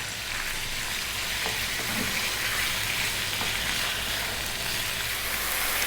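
About 500 grams of lamb fries over medium heat, stirred often, with a dense, constant sizzle that stays loud and even throughout.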